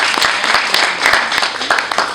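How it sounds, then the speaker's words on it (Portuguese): A crowd at a security guard training class graduation and medal ceremony claps in sustained, dense applause close by. "Salve de palmas"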